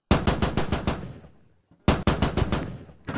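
Rapid automatic cannon fire from a BTR-82A armored vehicle in the Squad video game, two loud sustained bursts of closely spaced shots separated by a short pause, with no talk.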